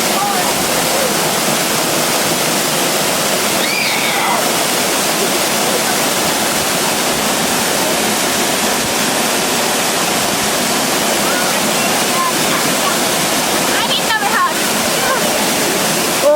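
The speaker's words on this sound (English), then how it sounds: "There's a waterfall way from the top of the mountain." A waterfall pouring down from high on a mountain, a loud, steady broadband roar of falling water filling the whole stretch, with faint voices briefly audible over it.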